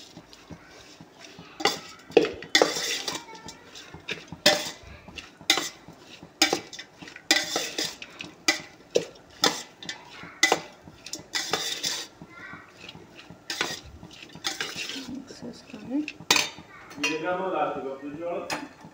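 A spoon scrapes and clinks against a metal pan while stirring ginger garlic paste with coriander and cumin powder, repeated irregular knocks and scrapes close up, with brief voice in between.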